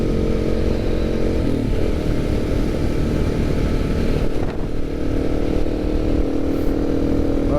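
A KTM 690 motorcycle engine drones loud and close under steady throttle while riding on Schnebly Hill, a constant, gruff, low roar with no speech that holds level until the end.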